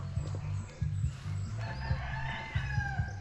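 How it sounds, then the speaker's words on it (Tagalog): A chicken calls close by on a farm in repeated low, pulsing clucks, with other fowl noises and a rooster-like cry in the background. "Oh, may manok."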